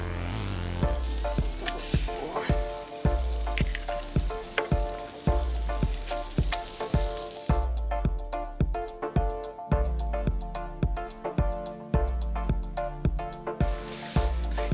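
Eggs and pork fat sizzle loudly in a frying pan over a riverside campfire, a continuous close crackle punctuated by regular sharp clicks and scrapes of stirring.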